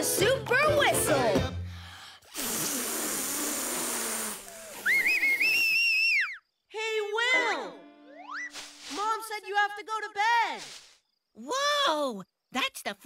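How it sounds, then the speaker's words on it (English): A cartoon character tries a super whistle, producing a string of sputtering, wobbling whistles, rising and falling boing-like tones and hissy bursts in short uneven spurts, with voice sounds mixed in. "I'll try it again. The super whistle."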